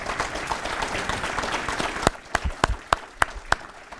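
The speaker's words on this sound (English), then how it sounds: "Please, another round of applause for them." Audience applause at a YMCA annual meeting, a dense spread of clapping that thins out midway into a few loud, isolated claps close by.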